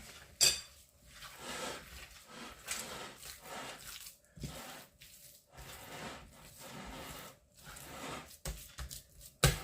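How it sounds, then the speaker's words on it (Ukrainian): Minced meat mixture for patties being kneaded by hand in a bowl, with soft, wet squelching and slapping, close and quiet, continuous with irregular louder pats. "І все потрібно ретельно змішати. Я роблю це руками."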